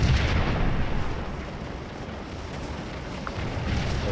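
Artillery and musket fire boom and crackle across a Civil War battlefield at Gettysburg in Scourge of War, a continuous rumbling wash of distant volleys that stays loud throughout.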